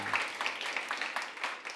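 Church congregation clapping together during a prayer gathering, a steady dense patter of many hands at moderate distance, continuous for the whole stretch with no voices over it.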